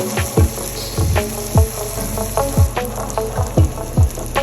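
Onions and chopped tomato sautéing in a pan, steady soft sizzle beneath repeated scraping and stirring strokes that land in a loose rhythm about every half second, close and fairly loud.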